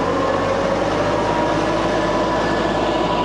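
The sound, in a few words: forestry mulcher running on a tractor PTO at about 1,500 RPM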